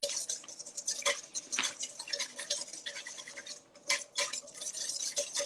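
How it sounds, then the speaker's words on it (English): Eggs are whisked for a sabayon in a home kitchen, a quick, steady metallic ticking and scraping of the whisk against the bowl that keeps up close and fairly soft. "So I'm whisking this"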